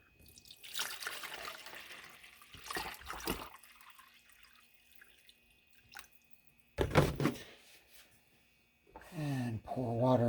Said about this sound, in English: And I'm going to pour water up to the same point on this one.